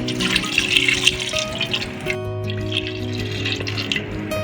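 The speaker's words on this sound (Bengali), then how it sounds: "এবারে এই জলটা দিয়ে দিচ্ছি" Water is poured into a pot of potatoes and whole onions, a close, steady splashing gush that continues for several seconds.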